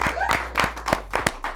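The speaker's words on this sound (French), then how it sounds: "On peut applaudir Laurine." Sparse, near clapping from a small audience for Laurine after she wins a mini-game on a game show, a handful of distinct claps in an uneven rhythm.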